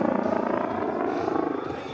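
Red Bull aerobatic helicopter flying stunts at the 2017 Aviation Nation air show at Nellis AFB, producing a loud, steady rotor drone with a fast, even blade pulse throughout and no talk.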